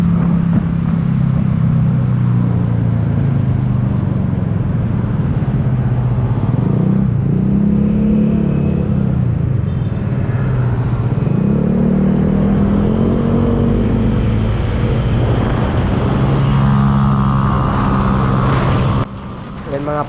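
Honda Click 160 and ADV 160 scooter engines rev in a steady, loud drone, with pitch rising and falling in repeated sweeps over about twenty seconds before cutting off near the end.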